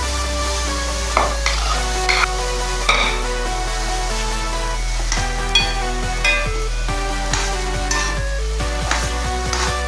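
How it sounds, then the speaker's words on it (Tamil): Tapioca and ground masala are stirred and mashed in a sizzling pot, with repeated scraping and tapping of the spoon against the pot over a continuous low hum. "நல்லா குழைச்சிட்டேன் பாருங்க."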